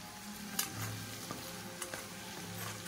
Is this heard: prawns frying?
yes